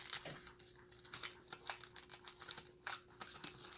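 Paper crinkles softly and is pressed flat during the folding of an origami dragon, with quiet rustles and light creases coming close but faint.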